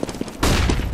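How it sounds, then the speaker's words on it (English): A flashbang grenade detonates in a tactical shooter game: a single loud, sudden bang about halfway through that lingers as a broad roar, following softer thumps and movement noise. "Throwing a flashbang."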